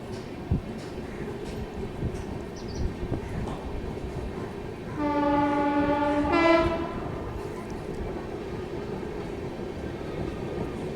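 The Ashram Express, an Indian Railways passenger train, departs Gurgaon station with a loud sustained horn blast of roughly two seconds, sounded close over a steady rumble of rolling wheels and track noise.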